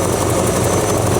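An idling 60-year-old Ford Galaxie engine runs as a steady, loud low rumble, with a faint, slight chatter from the top end barely audible within it.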